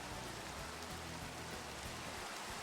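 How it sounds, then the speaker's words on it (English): Rain falls on a video game server as a steady, soft, even hiss of drops that runs without a break, with no voices over it. "Why is it raining on your server?"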